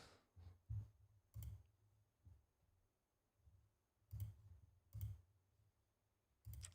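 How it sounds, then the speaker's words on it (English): Quiet, close clicks from a computer mouse come in irregular single taps and small clusters over faint room noise, with no speech. "Why is the mouse clicking so loud?"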